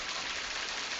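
Rain falls steadily at night during a tropical storm in Louisiana, a soft continuous hiss with no talk over it for about a second.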